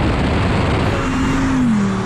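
A supercharged 2021 Lamborghini Huracan STO revs hard on a dyno, a loud continuous engine roar with a rising then falling whine near the end, close and unbroken.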